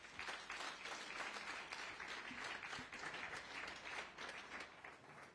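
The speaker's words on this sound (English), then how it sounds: "You need to give him a big round of applause." An audience at a conference applauds a speaker, with dense, sustained clapping from a large crowd filling the whole five seconds at an even level with no one talking.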